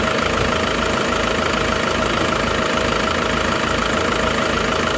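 An Isuzu Panther Turbo diesel engine with replaced cylinder liners idles at normal operating temperature, a steady close, loud rumble with an even, slightly knocking rhythm and no voices.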